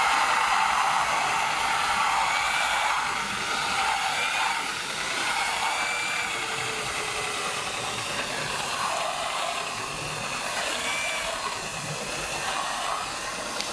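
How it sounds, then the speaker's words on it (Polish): Car polishing machine buffing paste on paintwork gives a steady, whirring hiss with a high motor whine rising and falling slightly, continuous and close throughout without speech. "żeby taką pastę nie puszczać teraz polerki, tylko po prostu przyłożyć i teraz dopiero włączyć"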